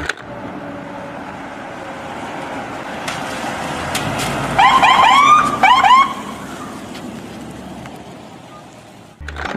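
A toy police patrol car siren warbles briefly in two short bursts at mid-volume amid handling noise among toy vehicles, the rest mostly quiet rustling.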